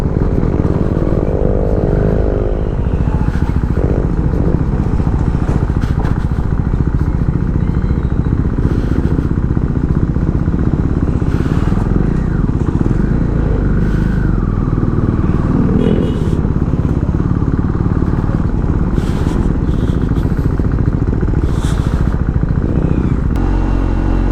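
A KTM Duke 390 naked motorcycle being ridden, its single-cylinder engine droning loudly and steadily throughout with wind rush and road rumble, close to the rider.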